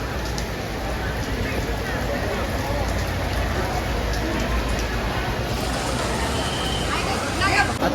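Steady rain hisses down near a temple, a dense continuous wash of drops with traffic noise and indistinct voices mixed in.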